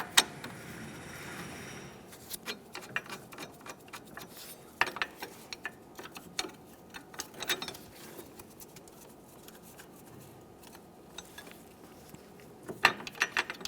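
Bracket mounting hardware goes onto a 2010-2013 Kia Forte Koup during a rear wheel bearing replacement: scattered close metallic clicks, ratchet ticks and small clanks of bolts and tools, irregular and fairly quiet, with no talking.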